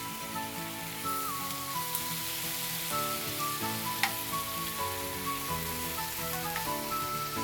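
Sweet and sour marinated paneer frying in a tablespoon of desi ghee, a steady soft sizzle throughout with occasional small pops, heard under background music, no speech.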